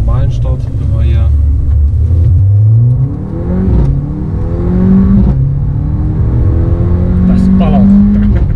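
Volkswagen Golf 7 GTI Performance in a racing video game, its engine revving loudly and repeatedly with rising pitch sweeps and gear changes, someone talking over the roar.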